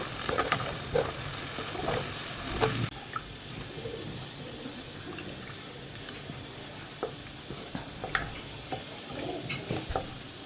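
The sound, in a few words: spices and tomato being stir-fried in a new frying pan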